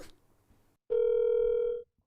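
Ringback tone while calling someone on the phone, one steady electronic beep lasting about a second after a brief faint rustle, clear and close.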